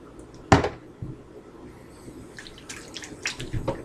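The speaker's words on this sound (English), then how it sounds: "gotta always wash your hands before you cook" A kitchen tap splashes as hands are washed, with one loud knock near the start and irregular gushes and drips that grow busier toward the end.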